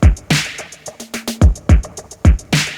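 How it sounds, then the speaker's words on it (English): A punchy electronic pop drum beat with kick and snare hits, broken midway by a quick snare fill of rapid strikes before the groove returns. "just for the chorus part, I've added the snare fills"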